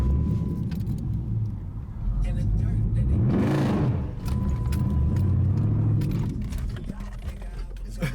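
A manual Dodge Challenger's engine is started, cranking briefly and catching into a loud rising rev, then settling to a steady idle rumble with nearby voices talking.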